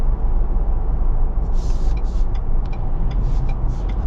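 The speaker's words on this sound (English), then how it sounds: "you are going to hear more road noise. Just more noise in general." Cabin road noise inside a 2025 Ford Bronco Outer Banks Sasquatch with a 4-cylinder engine on 35-inch tyres, a loud steady low roar with a few brief higher squeaks and clicks partway through.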